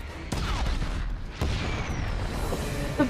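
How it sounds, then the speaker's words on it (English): Several booming explosions near a refinery in the Star Wars series The Bad Batch go off in quick succession, heavy low thuds with rumbling tails, loud and close amid background noise. "Omega, I'm registering multiple explosions near the refinery."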